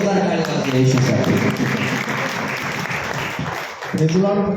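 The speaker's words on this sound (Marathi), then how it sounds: "जोरदार टाळी वाजवा येशूसाठी." A congregation at a Marathi church worship service breaks into loud, sustained applause for Jesus, a thick continuous roar of clapping that starts just after singing fades and is briefly joined by voices at the close.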